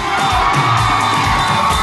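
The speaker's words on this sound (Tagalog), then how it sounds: "Iparinig nyo ang malalakas yung mga sigawan!" A studio audience of excited guests cheers and screams loudly, a continuous dense roar of shouting and whooping at close range that stays at full volume throughout.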